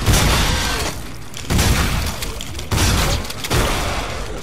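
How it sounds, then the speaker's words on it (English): Gunfire in the video game The Callisto Protocol comes as several loud, close bursts, each followed by a short decaying boom, repeating roughly every second. "I may as well shoot this guy."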